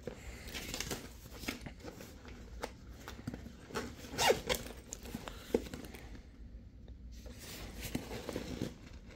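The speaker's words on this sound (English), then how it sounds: "Okay, so those are the two zips at the top." Zippers on a Nomatic bag made of tarp-like material are pulled open in a run of close, scratchy rasps and short tugs with brief pauses, loud and alone without talk.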